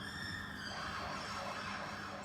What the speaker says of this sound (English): we have ambulances going outside